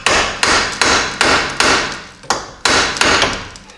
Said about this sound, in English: Take a nice hammer and give it a couple whacks.